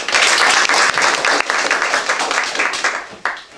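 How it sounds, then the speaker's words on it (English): An audience applauds a speaker named Thomas, dense steady clapping filling the room at close range before thinning and breaking off near the end. "Let's give a round of applause to our next speaker, Thomas."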